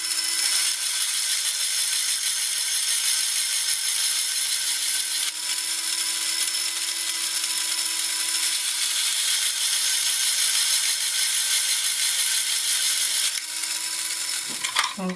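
The small electric motor and gear system of a refurbished Kamco Sentinel piston robot drive its shark fin, making a loud, steady, high-pitched whir that runs unbroken and close for the whole stretch, with a brief clatter at the end.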